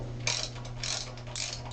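A ratchet wrench tightening a replacement anode rod back into a water heater, giving three short bursts of quick metallic clicking at close range over a steady low hum.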